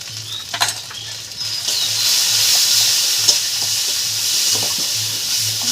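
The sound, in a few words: stirring spices frying in a pan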